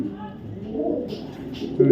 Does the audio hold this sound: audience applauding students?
no